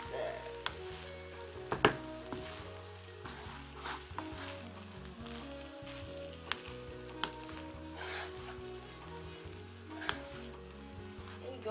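White rice cooked with soy sauce is stir-fried with king prawns and scallops in a hot pan, sizzling steadily with scraping stirs and occasional sharp clinks of a utensil, no talking.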